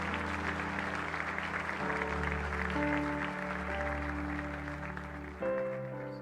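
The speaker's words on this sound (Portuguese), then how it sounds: "Aplaudam o Senhor" A church congregation applauds through a steady wash of clapping under sustained organ or keyboard chords that shift pitch a few times, fairly distant and soft, with no one speaking.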